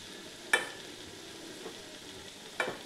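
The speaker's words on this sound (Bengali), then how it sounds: "এবারে বড়িগুলো মিশিয়ে দিলাম" Lentil dumplings (bori) stirred into cooked cauliflower stalks in a pan, two brief spoon scrapes standing out from a quiet, low background.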